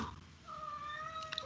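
A house cat gives a single drawn-out meow, faint and close, with a soft rising-then-falling tone over quiet background.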